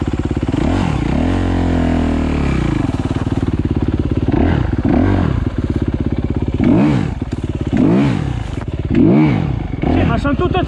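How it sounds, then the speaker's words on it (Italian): A GasGas or Honda off-road motorcycle engine revs loudly and up close, with repeated throttle blips, clattering mechanical noise and sharp drops as the clutch is let out, and voices talk over it. "io adesso mollo la frizione e la spengo subito"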